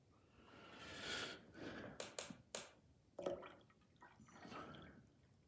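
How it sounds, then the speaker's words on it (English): Water poured from a container into a jug or milk bottle, a faint close trickle with soft drips and splashes that swell and ebb in several short pours. "I'm going to pour my water into the milk bottle."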